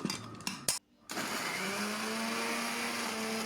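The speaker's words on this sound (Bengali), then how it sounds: "এবারে পাউরুটিগুলোকে আমি ব্লেন্ডারের একটি জারে ব্লেন্ড করে গুঁড়ো করে নিব।" An electric blender jar whirs steadily as it grinds slices of bread into breadcrumbs in a home kitchen, preceded by a few brief bumps and a short silent gap before the motor settles into a continuous hum.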